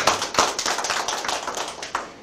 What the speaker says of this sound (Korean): 한번 박수 한번 여기서 한번 살짝 치겠습니다